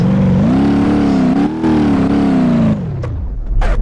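A car engine in the BeamNG.drive driving game revs loud and close, its tone rising and holding steady before cutting off abruptly, followed by faint clicks.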